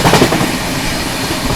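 Rajdhani Express running between Guwahati and New Delhi, heard from aboard as a loud, steady rumble of wheels on rails with a rushing roar and faint rhythmic clatter, no voices.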